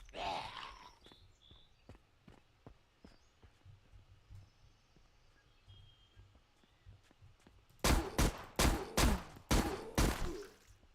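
Game gunfire in Zompiercer rings out in a tight run of about six loud, close shots, spaced evenly near the end after a quieter stretch of scattered clicks and footsteps.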